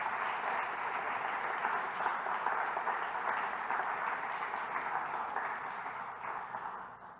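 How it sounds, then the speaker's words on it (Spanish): A church congregation applauds at a morning service, sustained and fairly distant, with many hands blending into an even wash that tapers off near the end. "Dale un fuerte aplauso al Señor en esta mañana"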